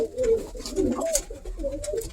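Racing pigeons coo in low, throaty bursts, several overlapping calls close by with light background rustle.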